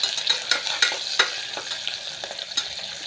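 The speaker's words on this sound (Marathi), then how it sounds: "कांदा चांगला लालसर होईपर्यंत आपण तळायचा आहे." Chopped onion sizzles in hot oil in a pan while being stirred, with scraping strokes and clinks against the metal over a constant close-up frying hiss.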